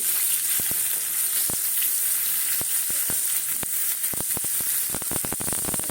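Potato and cauliflower pieces fry in hot oil, a loud continuous close sizzle dotted with sharp crackles and pops that grow more frequent toward the end, with no talking.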